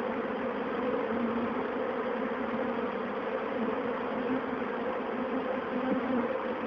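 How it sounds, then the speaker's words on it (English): A swarm of honeybees packed into a wooden bird box, producing a dense, steady buzzing hum that stays even and close without pause. "I hope you can hear them buzzing."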